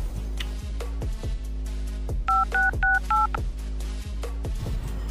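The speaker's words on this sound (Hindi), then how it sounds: "फोन लगा उसको।" Four quick dial tones beep in a row on a phone, surrounded by a low hum and scattered soft clicks.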